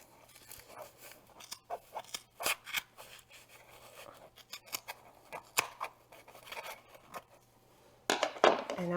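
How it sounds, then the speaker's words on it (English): Scissors snip through wrapped yarn at the end of a cardboard form, a series of scattered crisp cuts and crunches close by, growing louder near the end. "now we're going to cut the end off here"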